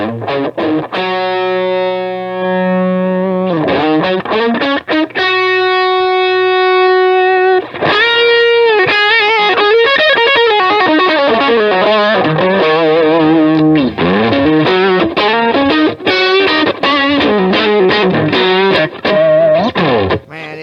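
Electric guitar played through a JHS PG14 distortion pedal, thick sustained distorted chords and riffs ringing loud and steady, with held notes and quick rhythmic passages, no talking.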